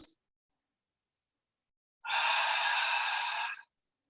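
A single strong exhale during a spinal mobility and breathing exercise, a close, breathy rush of air lasting about a second and a half after a brief pause, picked up through a low-quality video-call microphone.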